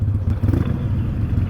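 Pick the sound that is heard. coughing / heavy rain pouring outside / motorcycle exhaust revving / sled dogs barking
motorcycle exhaust revving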